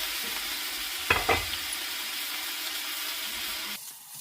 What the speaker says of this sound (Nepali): अब मजाले हामीले चाहिँ फ्राई गर्नुपर्छ चलाउँदा यसरी। बिस्तारै चलाउनुपर्छ।